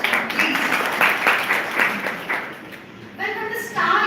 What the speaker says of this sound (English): Please give a wonderful round of applause